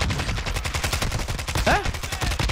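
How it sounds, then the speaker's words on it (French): Rapid automatic gunfire in a squad-versus-squad shooter video game with grenades being thrown, dense close bursts rattling almost continuously, with faint talk underneath. "On m'a tiré dessus, mais je sais pas d'où, frérot."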